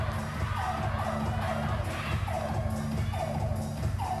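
Spectators at a WTT Macao 2021 men's singles table tennis final roar and cheer after a long rally, a dense, steady crowd noise with rising whoops throughout.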